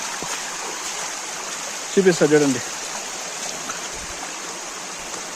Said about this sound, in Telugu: సో మీకు ఇప్పుడు వాటర్ అనేది ఇక్కడి నుంచి వస్తాను చూడండి